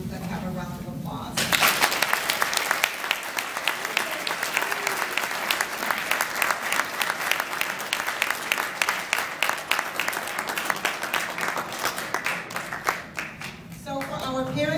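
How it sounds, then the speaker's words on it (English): Sustained applause from a school audience at an awards ceremony, a dense, steady wall of clapping that swells in after a brief lead-in and carries on for over ten seconds before easing. "So for our entire student body, let's have a round of applause."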